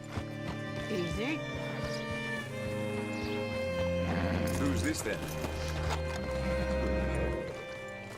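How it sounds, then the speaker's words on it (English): Horse in the video game Red Dead Redemption 2, with clip-clopping hooves and a snort or whinny beneath steady music, while someone speaks calmly nearby. "Hitch your horse up here."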